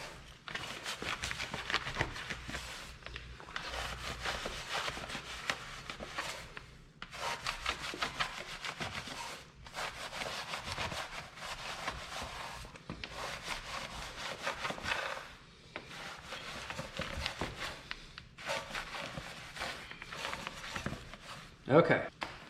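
A long brush scrubbing a dirty painted car wheel, giving steady rhythmic rubbing strokes in bursts with short pauses, close and fairly quiet throughout.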